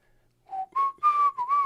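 Someone whistles a short tune alone and close, a few clear sustained notes that rise and bend, with no talk over it.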